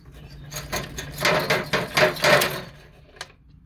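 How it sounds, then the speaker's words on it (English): Pliers work on a part inside an AC condenser unit, producing a cluster of close, sharp metallic clicks and clanks over a couple of seconds, followed by one last faint tap. "Just going to use my pliers and take this out."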